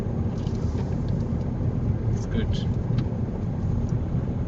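A car driving through a residential neighbourhood during a G2 road test in Guelph, with a steady low engine and road rumble from inside the cabin under ongoing talk.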